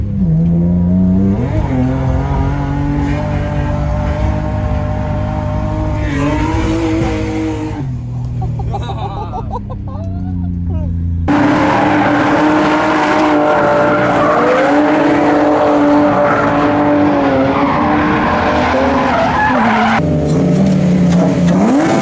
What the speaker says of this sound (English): today is about drifting